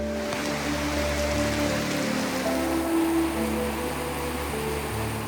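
Steady rain falls on Koh Mook, a Thai island, during the rainy season, a dense continuous hiss with a low hum underneath, fairly loud and unbroken, with no voices.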